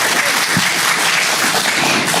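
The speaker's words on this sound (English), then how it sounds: "thank you, clap for Barb." A town hall meeting audience bursts into applause for the timekeeper, a thick and steady roar of many hands clapping that runs briefly and without pause.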